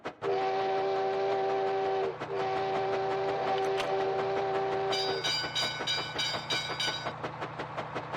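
A train rolls along rails in the Hitman video game, its steady loud rumble and clickety-clack joined by a sustained multi-tone whistle, then a second higher whistle chord near the end, with no voices.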